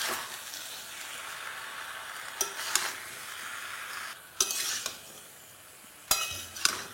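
Potatoes, spices and tomatoes stirred in a frying pan for a vegetarian eggplant dish, a steady sizzle under a few sharp scrapes and knocks of the utensil against the pan.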